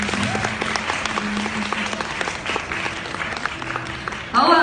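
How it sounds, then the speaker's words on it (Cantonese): An audience at a Hong Kong press conference claps in sustained, even applause with faint voices mixed underneath, and a louder sound cuts in at the very end. "都俾啲掌聲啦！"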